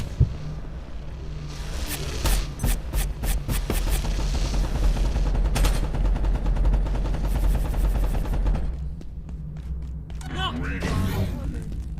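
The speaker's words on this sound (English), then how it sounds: "There's a machine gun over there." Machine gun fire in a video game, sharp rapid bursts of automatic shots in quick rhythmic strings, loud and close, with heavy thumps and game noise underneath.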